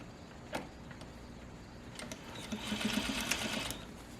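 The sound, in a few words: sewing machine stitching 100% cotton fabric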